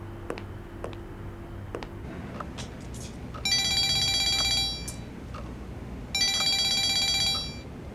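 A telephone rings in two distinct electronic bursts separated by a short pause, fairly clear over a quiet room with faint ticks and rustles.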